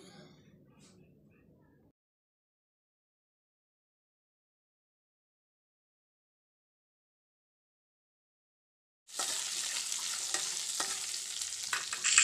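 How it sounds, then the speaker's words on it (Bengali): Panch phoron, bay leaf and dried red chilli fry in hot oil, bursting into a loud, steady sizzle for the last few seconds after a long silence; a faint voice murmurs briefly at the start. "তেলের মধ্যে আমি ভেজে নিচ্ছি পোড়নের মশলাটাকে"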